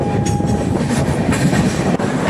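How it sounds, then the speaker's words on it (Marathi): The Konkan Kanya Express rolls loudly into Thane station, wheels clattering over rail joints with a few sharp clicks and a thin tonal whine early on. "सो फायनली आपली ट्रेन जी आहे ठाण्याला पोचली आहे"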